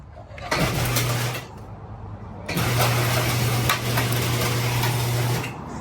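Gutter machine that has sat unused for a while being started, with a short run and cut-off, then a restart into a steady, loud mechanical drone with a low hum, no talking.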